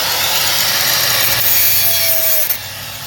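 Steady rasping of a saw cutting material while fitting a battery into an electric bike converted from an old TVS XL, continuous and close for about two and a half seconds before stopping.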